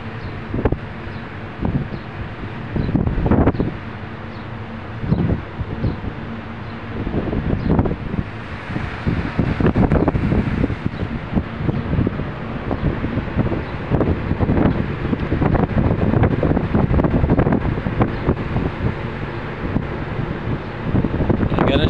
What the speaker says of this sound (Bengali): দেখেন কিভাবে চলতেছে হাওয়া